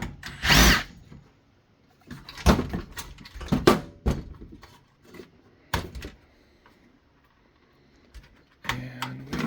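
Power drill-driver on a DIRECTV HR24-200 HD DVR receiver, removing screws from the front panel: several short bursts of whirring, with clicks and handling knocks of the plastic housing between them, close and fairly loud.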